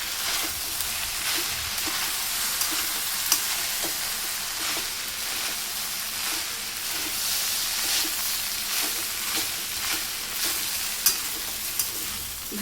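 Vegetable fried rice stirred and fried in a hot pan, a loud continuous sizzle with regular scraping strokes of the spoon throughout.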